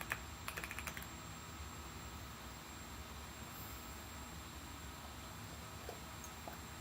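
Typing on a mechanical keyboard with brown switches, a quick cluster of clacky keystrokes in the first second, then faint scattered taps over a steady fan-like hum.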